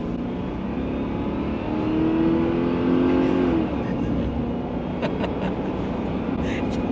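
A V8 car engine revs and pulls hard under acceleration from inside the cabin, a steady dense roar whose pitch climbs then drops around a gear change, with faint clicks near the end.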